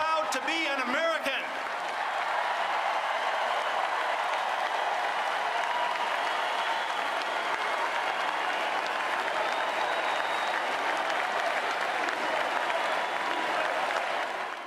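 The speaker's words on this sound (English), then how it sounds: "Did you hear the raucous applause there?" Raucous applause and cheering from a large crowd fills the hall after a speech at a Republican political convention, a dense, sustained roar of clapping that stays loud throughout, with a brief voice at the very start.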